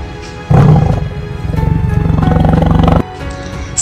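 A tiger roars loud and close in one long, rumbling burst lasting about two and a half seconds, starting abruptly and cutting off sharply, alone without any talk.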